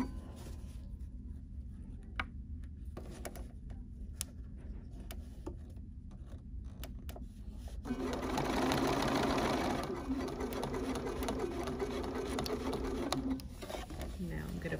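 A Bernina sewing machine fitted with a walking foot runs in short bursts of rapid, steady stitching, starting quietly and swelling louder midway. Small clicks and handling taps sit between the runs, with no talk.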